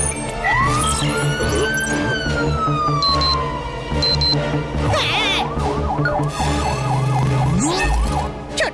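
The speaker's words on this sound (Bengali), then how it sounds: "কখনো ফায়ার ব্রিগেড, কখনো পুলিশ ভ্যানের সাইরেন কেন বাজছে?" A cartoon siren sound effect cycles through ambulance, fire engine and police sirens: a long rising and falling wail, short high beeps, then rapid repeated whoops and a low rising tone, loud and continuous.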